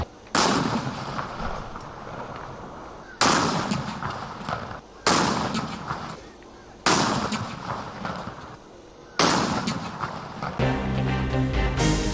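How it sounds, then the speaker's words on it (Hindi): Cannon salute for Pakistan's national day: four heavy booms fire at roughly even intervals, each loud blast followed by a long rumbling decay, before a brief stretch of music closes the sequence. "क़ौमी दिहाड़े जी शुरूआत मुल्क जे मुख़्तलिफ़ शहरनि में की तोपुनि जी सलामी सां कई वई"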